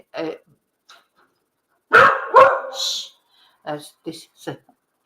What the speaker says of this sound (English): barking because there's going to be a changeover now of the dogs